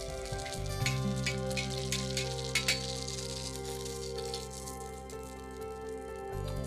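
A tikki fries on a hot tawa griddle, a soft steady sizzle with scattered crackles and pops, fairly quiet and close, with a low hum underneath and no talking.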